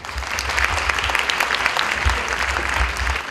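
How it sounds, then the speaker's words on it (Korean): Applause from a ceremony audience at a university ICT engineering college launch event, steady dense clapping filling the whole stretch with no break. "큰 박수로 환영해 주시기 바라겠습니다."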